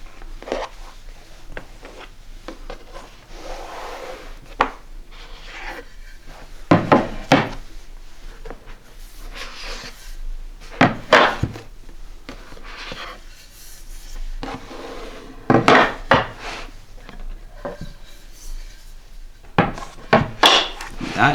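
Wooden pieces of a stacked maple and wenge hardwood chessboard, held together by magnets, clack and rub as they are handled, with scattered knocks and scraping bursts between quieter stretches.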